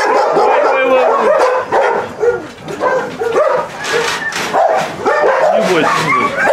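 Several dogs at an animal shelter bark and yip loudly and repeatedly, some whimpering, a close, crowded chorus with a person speaking among them.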